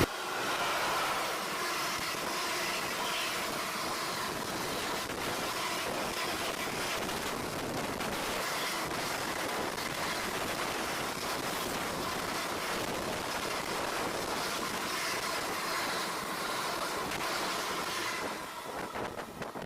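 A passenger train runs toward Ernakulam in Kerala, giving a steady, loud broadband rumble with wind noise throughout, continuous and unbroken, easing off slightly at the very end.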